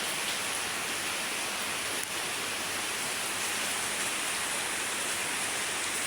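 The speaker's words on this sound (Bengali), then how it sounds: "রাতের থেকে বৃষ্টি হইতেছে" Steady overnight rain pours down around a flooded Bangladeshi home, a dense, continuous hiss of drops on wet surfaces and standing water, close and even throughout with no voices.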